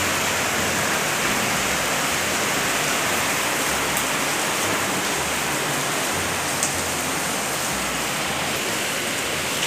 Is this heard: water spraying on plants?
yes